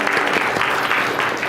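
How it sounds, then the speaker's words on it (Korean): A church congregation applauds together, a dense, steady wash of clapping filling a short stretch without pause. "이곳에 불러주신 하나님께 영광의 박수 올려드리겠습니다"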